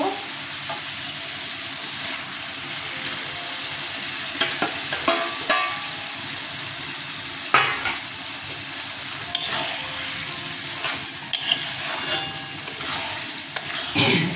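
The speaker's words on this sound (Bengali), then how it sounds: "আমি এবার বেগুনটা এতে ছেড়ে দেব।" Brinjal cooking in a red hilsa-fish-head gravy, a steady simmering sizzle broken by repeated sharp scrapes and knocks of a spoon stirring the pan, close and without voices.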